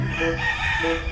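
A gamefowl rooster crows on a farm. One loud, close, sustained crow holds for about a second.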